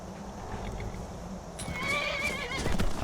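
A horse in a video game neighs and whinnies loudly in the second half, with clip-clop hoof sounds and ambient game noise underneath.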